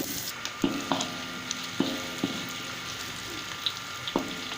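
Chopped onions frying in a pan of oil while cooking fried beef, a steady close sizzle broken by a few sharp clicks and scrapes of stirring, with no voices.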